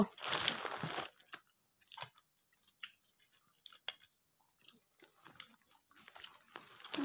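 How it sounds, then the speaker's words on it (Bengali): A child picks up peanuts and eats them, giving short crisp crunching bites scattered in irregular bursts, with a louder rustling burst at the start and faint voices in between. "বাদাম গুলো উঠাচ্ছে, ওই খাচ্ছে।"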